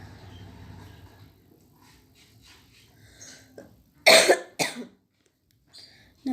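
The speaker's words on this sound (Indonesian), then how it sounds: "aku batuk-batuk." Two or three harsh coughs in quick succession, close and loud, after a quiet stretch of faint low voice.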